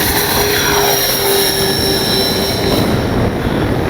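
OV-10 Bronco RC model airplane flying on large 4500 batteries, a loud continuous electric motor and propeller whine with steady wind noise, close and unbroken throughout.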